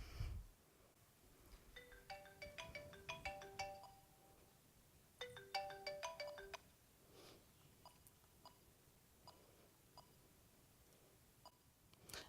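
A cell phone rings with an incoming call in a quiet indoor room, its melodic ringtone playing in two clear bursts a few seconds apart, followed by softer scattered beeps and faint background noise.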